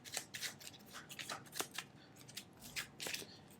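Playing cards riffled and shuffled for a Legendary Marvel deck-building game, a run of quick crisp flutters in rapid bursts close by, with no talk.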